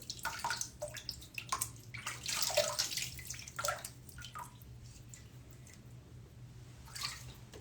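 Water running and splashing at a sink while rinsing off after a shave, with uneven gushes and drips close by, busiest early on and settling into a quieter steady trickle.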